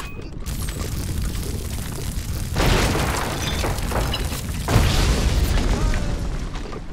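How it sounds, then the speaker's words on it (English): Rocket launchers firing in the medieval strategy game Stronghold Warlords, with two sharp booming blasts about two seconds apart over a constant rumbling battle din and mechanical clatter. "Rocket launcher at your command."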